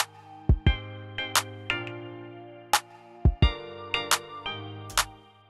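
Simple chord progression in Studio One with a drum part added: sharp drum hits land in a steady groove over sustained chords, kick-like thumps and bright cymbal or hi-hat strikes recurring clearly throughout, no voices.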